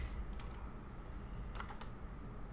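Keys tapped on a computer keyboard in a few short bursts of clicks, faint under steady background hum with no talking.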